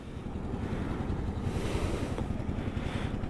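Wind gusts at Manila Bay buffet the microphone over a steady wash of water, rising and falling in broad rushing swells without speech.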